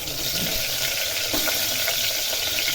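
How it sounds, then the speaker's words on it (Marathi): Stuffed ridge gourds dropped into hot oil in a pan for a spicy Satara-style curry, giving a steady close sizzle and hiss throughout, with no one talking. "आता आपण जे भरलेले दोडके आहेत ते आपल्याला त्या तेलावर टाकून घ्यायचे"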